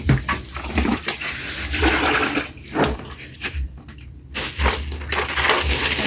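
Water runs and splashes in uneven gushes while meat and shrimp are rinsed, with pauses and bursts of pouring close at hand.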